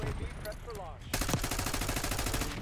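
Automatic gunfire in Call of Duty: Black Ops 6 rattles in a rapid, evenly spaced burst that starts partway through and continues to the end, loud and close after a few scattered earlier shots.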